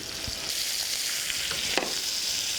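Salt cod sizzles in a hot pan, a steady bright crackling hiss with a few soft pops and one sharper spatter, close and alone without talk.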